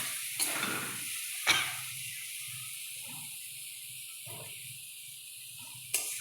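Turmeric and Kashmiri chili powder sautéing in a pan for a mutton curry, a soft steady sizzle with a few sharp scraping stirs of a spoon against the pan, close and with no talking.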